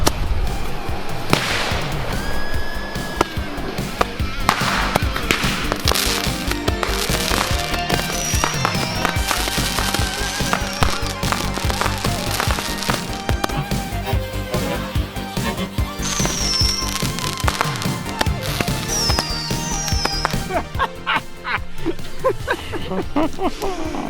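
Roman candle fireworks glued to a drill fire for a long loud stretch, a dense stream of sharp cracks, whip-like pops and whistling shots over a constant hissing roar.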